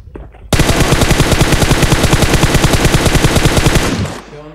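Sustained automatic gunfire sprays from a player in the mobile battle royale game PUBG Mobile, a loud, rapid, evenly spaced burst lasting several seconds before cutting off abruptly.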